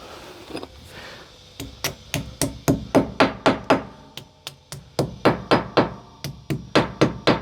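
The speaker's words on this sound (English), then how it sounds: "Make sure you hit them all the way in." Wall plugs are hammered into a wall to mount a retractable hose reel: a long run of loud, sharp, evenly spaced hammer blows close by, pausing briefly midway before another steady series.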